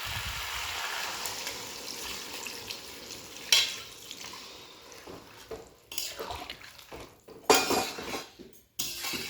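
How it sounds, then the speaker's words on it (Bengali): Cauliflower and potato curry is stirred in a pan just after hot water goes in, bringing quiet sloshing, a faint simmer and sporadic clinks of a spoon against the pot. "জল দিয়ে একটু নাড়াচাড়া করে নিচ্ছি।"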